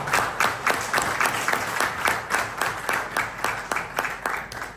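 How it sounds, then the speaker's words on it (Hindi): Audience applause at a seminar closing, many people clapping in a steady rhythmic pulse, loud and continuous with no talk over it. "जोरदार तालियां, तालियां जोरदार"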